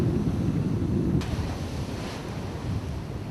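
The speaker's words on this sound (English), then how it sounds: "Wind helping you get a good ride." Strong wind buffeting at a Cape Cod beach in Dennis, a loud, continuous low rumble of gusts with surf-like wash, easing slightly after the first second.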